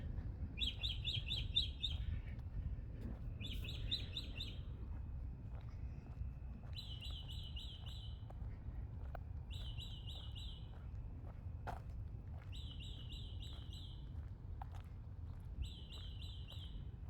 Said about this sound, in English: Go to sleep, bird.